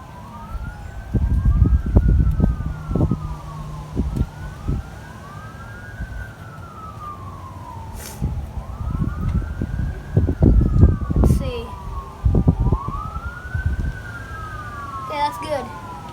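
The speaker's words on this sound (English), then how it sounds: "Sounds like there was an accident. Sirens going in the background." Emergency vehicle sirens wail in repeating rising and falling sweeps from a distance, rolling on steadily while voices and close handling noises sound nearer.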